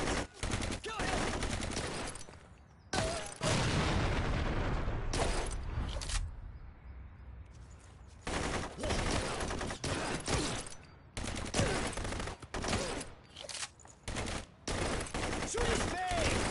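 Video game gunfire rattles in long, loud, dense bursts separated by short gaps, close and continuous, with voices talking over the shooting.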